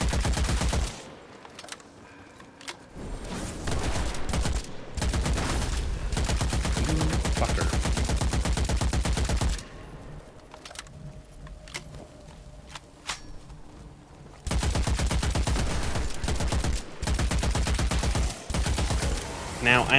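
Rapid automatic weapon fire from the video game Witchfire, loud bursts of gunfire in long sustained strings broken by brief pauses, with layered in-game effects around the shots.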